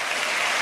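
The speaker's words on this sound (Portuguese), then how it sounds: "Vamos aplaudir o Senhor" A congregation applauds during a church sermon, a dense, steady wash of clapping filling the whole short stretch at an even, fairly loud level.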